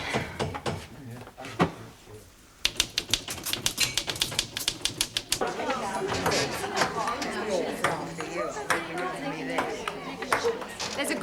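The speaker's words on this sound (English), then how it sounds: "I'm quite proficient with a typewriter." A typewriter clacks away in quick, irregular bursts of sharp key strikes, close and crisp, with voices talking over the typing.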